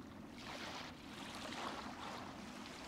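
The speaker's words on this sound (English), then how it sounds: "I don't want to be in the water in this game. That sounds horrible." Water in the video game Hollow Knight, a faint, soft wash of splashing and lapping, quiet and steady with no talking.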